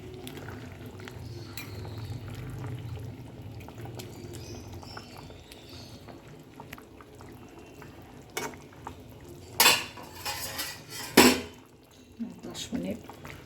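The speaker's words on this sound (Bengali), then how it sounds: "একটু ভালো করে মিশিয়ে দেবো।" Fried fish pieces are stirred into a boiling curry in a pan: soft bubbling at first, then a few sharp clinks and scrapes of a spoon against the pan toward the end. The sounds are fairly quiet overall.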